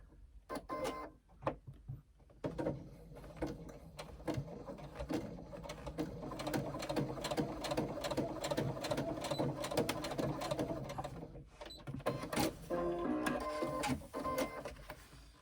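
A sewing machine runs close by basting fabric pleats in place, a fast rhythmic mechanical clatter in several bursts with brief pauses between stitching runs, fairly quiet and without talk.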